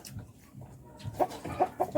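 Several short, close clucks from a chicken in quick succession, with faint background noise and no speech.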